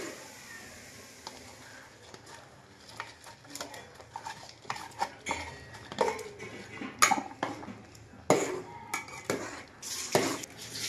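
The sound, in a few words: adding jaggery and stirring lapshi in a pot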